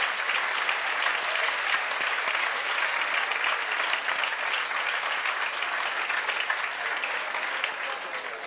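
Sustained audience applause for a coaching centre, steady dense clapping from a large crowd held at even loudness throughout, with no talk over it.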